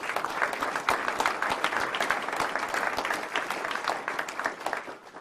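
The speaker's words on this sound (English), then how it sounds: "Let's give them a round of applause." A crowd claps steadily for several seconds at an Army Emergency Relief 75th anniversary event, dense applause from a large audience that starts to thin toward the end.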